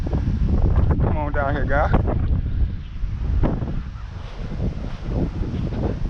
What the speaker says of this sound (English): That wind got dicey there.